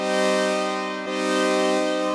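A KORG synthesizer brass patch holds a steady, bright chord for about two seconds, with a brief dip in the middle before it swells back.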